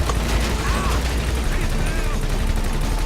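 Gunfire during a shootout in the video game GTA 5, dense rapid shots forming a steady fusillade with continuous loud rattling throughout, mixed with game noise and some voice.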